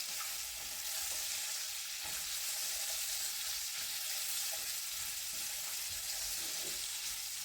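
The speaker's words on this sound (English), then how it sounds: "I'll put my onions in. And I'll let my onions brown." Onions browning in a hot frying pan, a steady bright sizzle with occasional crackles and pops, close and continuous with no talking.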